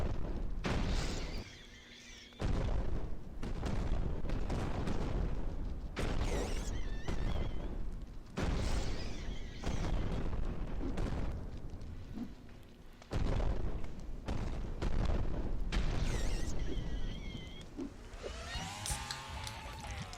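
Rockets firing and blasting in the video game Kill It With Fire, a dense run of booming, crackling explosions with brief lulls, loud and close throughout.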